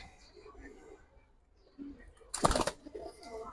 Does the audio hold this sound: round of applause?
no